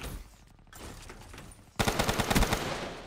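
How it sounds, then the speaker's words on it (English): Rapid burst of shotgun fire in a first-person shooter match, several loud close blasts in quick succession after a quieter stretch, with no talk over them. "The guy literally just tried to shotgun me"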